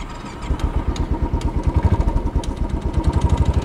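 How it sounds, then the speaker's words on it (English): A Royal Enfield Bullet 500 motorcycle, cold after sitting outdoors in below-freezing weather on a New York City street, thumps steadily at idle, its loud, close single-cylinder pulses growing slightly stronger and more even as it warms. "I'm going to start up the bike."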